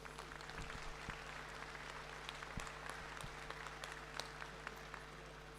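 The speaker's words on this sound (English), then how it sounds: "let's have a round of applause for everyone here and the industry as a whole." Audience applause at a British Alpaca Society show ring, a fairly quiet, steady patter of many hands clapping for several seconds over a low mains hum, heard at some distance with no voices.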